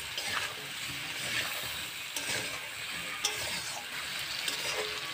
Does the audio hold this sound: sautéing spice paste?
yes